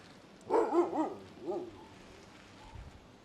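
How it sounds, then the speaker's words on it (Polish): Dogs bark on a street in Ushuaia, a close burst of three or four quick barks followed by a softer bark and a faint distant one. "Na mnie oczywiście szczekają."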